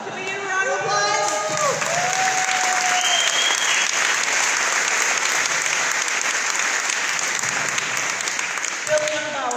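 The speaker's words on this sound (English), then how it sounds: "Can we get a round of applause?" An audience at a political gubernatorial debate breaks into sustained, loud applause lasting several seconds, dense and steady, with speech briefly heard at the start and end.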